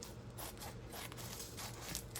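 Scissors snipping open a kitchen package, a soft, continuous scraping cut repeated several times, close and fairly quiet.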